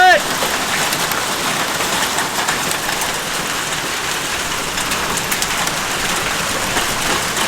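Hail pours steadily outside in a dense, even hiss of countless impacts, continuous and fairly loud throughout, while a Saab sits sheltered indoors.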